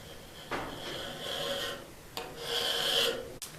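A scraper works against old paint on a cast iron top in two rasping strokes, each a close, moderately loud grating sweep lasting about a second, with a sharp tap at the very end.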